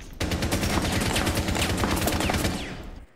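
A sustained burst of automatic gunfire in a ranked match of the video game Clubhouse, a loud rapid stream of shots running for about three seconds before cutting off, with no talking.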